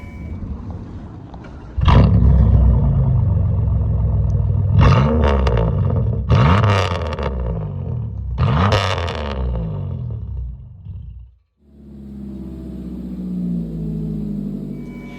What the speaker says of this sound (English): I will insert some clips now of the exhaust I've done on 2 different cars.